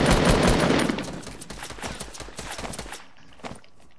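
Rapid bursts of gunfire in a Fortnite duos match, loud at the start and thinning into scattered shots, with one more pop near the end.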